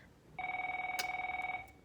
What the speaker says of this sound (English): the phone rang at the end of that video